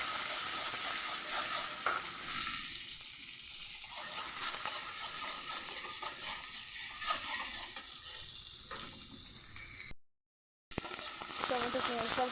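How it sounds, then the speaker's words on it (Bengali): Chopped onion and tomato fry in oil left from frying eggs, making a continuous hissing sizzle with stirring and scraping throughout, a brief dropout near the end, then the sizzle returning. "ভালোভাবে টমেটো কুচি আর পেঁয়াজটাকে ভেজে নেবো"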